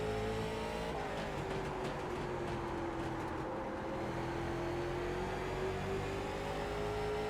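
A NASCAR late model race car engine in the iRacing video game drones steadily at high revs, a continuous loud whine with a slight pitch dip and rise as the car holds speed on track.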